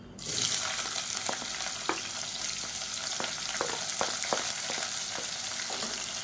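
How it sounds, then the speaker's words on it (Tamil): Oil sizzles and crackles steadily in a pan as a large sliced onion fries for eggplant biryani, with a burst of frying at the start and occasional soft clinks of stirring. "இப்போ பாருங்கள், நல்லா பொரிய ஆரம்பிச்சிருச்சு"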